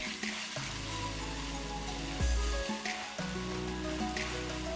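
Chopped onion sautéed in a pan with green chilies and salt while making Gobi Manchurian, giving a steady, moderate sizzle under droning background music, with a brief clatter partway through.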